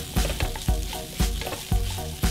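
Nasi goreng harimau menangis fried rice sizzles steadily in a pan as a utensil stirs and scrapes it in regular strokes about every half second, close and clear.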